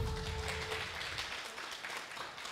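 Applause from a live audience at a Pacific Overwatch esports match between SST and ahq, a broad steady wash of clapping lasting a couple of seconds, heard at moderate level.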